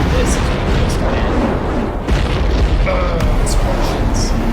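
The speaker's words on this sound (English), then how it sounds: "Explosions." Explosions boom in a Chinese army advertisement, a loud run of heavy blasts and rumbles over driving music, with bursts cutting through the mix.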